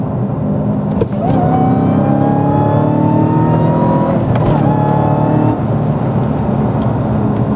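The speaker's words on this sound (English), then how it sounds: "So we'll try another 700 horsepower run here and see kind of how that goes." Manual Dodge Hellcat accelerates hard on a highway, its engine screaming upward through the revs in long rising sweeps broken by quick gear changes, loud and close from inside the car.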